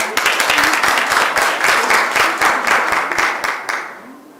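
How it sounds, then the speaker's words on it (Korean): An audience at an academic forum gives a moderate round of applause, scattered individual claps merging into a brief patter that fades out after about four seconds. "박수로 맞이해주시기 바랍니다"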